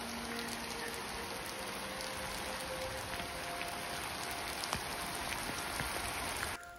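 Rain falling in a forest wilderness in New Mexico's Santa Fe National Forest, a faint, even hiss of steady rainfall with occasional heavier drops, cutting off abruptly just before the end.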